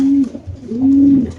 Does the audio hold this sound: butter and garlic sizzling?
no